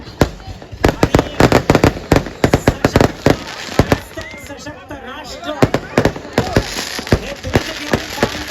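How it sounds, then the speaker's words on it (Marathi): Firecrackers burst in a rapid, irregular string of loud, close pops and bangs, with a short lull midway and voices faintly underneath. "जसे फटाके फुटणं सुरू झाले पुन्हा दुसऱ्यांदा शंभूचं रडणं सुरू झालं"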